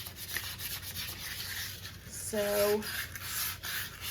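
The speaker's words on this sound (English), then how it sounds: "I am going to lightly sand these to rough up the texture" Small thrifted vases are lightly sanded by hand to rough up their surface, a soft steady rubbing and scraping close up over faint background hiss, with a short tonal sound partway through.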